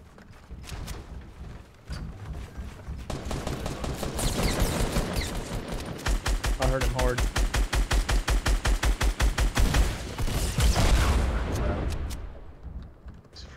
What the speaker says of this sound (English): Right, I'm shooting at him.